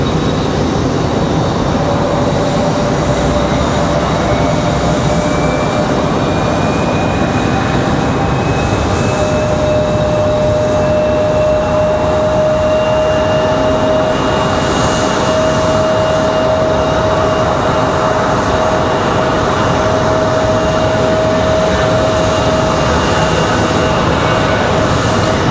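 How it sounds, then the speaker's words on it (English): A Delta Airbus A321 jet departs Raleigh-Durham airport, a steady broad engine roar holding loud and constant throughout, with a high whine slowly rising in pitch over the rumble; no voices. "Delta decides to get this A321 out of here"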